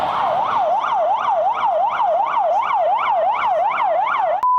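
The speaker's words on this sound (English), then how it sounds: "We've got an ambulance trying to come through the market." An ambulance siren wails through a busy night market in Seoul, a loud, fast rising-and-falling electronic yelp repeating steadily and up close, which cuts off abruptly at the end, with no talk.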